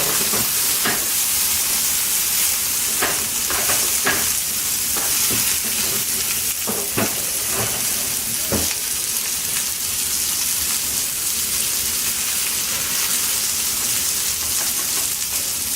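Asian garlic and onions fry in a pan for roast beef, giving a steady, close sizzle with occasional sharp clicks and pops of stirring throughout, and no voices.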